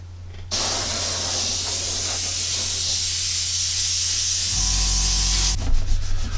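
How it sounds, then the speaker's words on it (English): A steady, loud hiss of spray paint from an aerosol can onto an Avenger Star Destroyer scale model, running continuously for several seconds before cutting off. "What I'm going to do is carry on spraying the rest of it all over."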